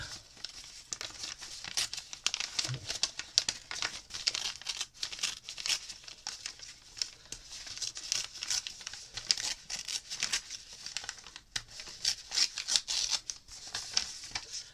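A sheet of brown craft paper is crushed and crinkled by hand for a 3D collage, giving a steady, close, fairly quiet rustle of crackling paper that runs unbroken for about fifteen seconds.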